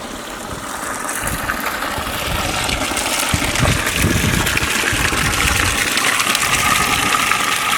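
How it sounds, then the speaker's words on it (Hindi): Boiling hot spring water gushes and churns in a steady, broadband rush close by, with a continuous turbulent hiss and low rumble that builds slightly and holds. "उबलता हुआ पानी है।"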